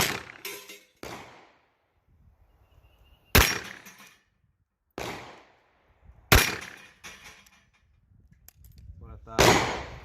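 Taurus Judge revolver with a 6-inch barrel firing .45 Colt rounds, four loud sharp shots spaced a few seconds apart, each with a short echoing decay, and quiet stretches between them.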